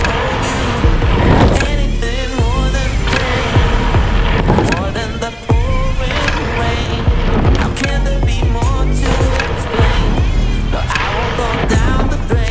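A skateboard rolls loudly and close, wheels roaring over rough ground with clacks and thumps from board impacts through the ride.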